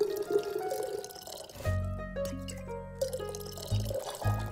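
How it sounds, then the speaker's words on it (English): Liquid poured into a glass in a cozy drink-mixing game, a steady ringing fill that lasts about two seconds, then two short bursts of pouring, alone with no talk. "Let's go ahead and pour a drink."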